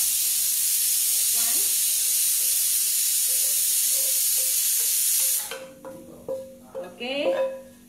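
A pressure cooker lets off steam in a kitchen during cooking of rice, a loud continuous hiss for several seconds that cuts off, followed by softer clinks and stirring sounds.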